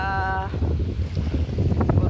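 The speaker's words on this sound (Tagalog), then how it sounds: "Mahangin pala. Sobrang mahangin." Steady, strong wind buffets the microphone with a continuous low rumble and gusty roar, a brief tonal whine fading out at the start.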